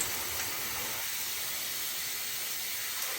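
Hot water runs steadily from a tap while hands are washed with antibacterial soap, a continuous broad hiss with faint shifts as the hands move under the stream.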